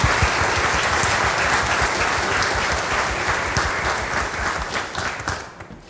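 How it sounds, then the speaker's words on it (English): Warm, sustained audience applause for a couple celebrating their 60th wedding anniversary at a concert, many hands clapping steadily and closely before gradually thinning out at the end. "So I think we need to give them another round of applause because 60 years of marriage is amazing"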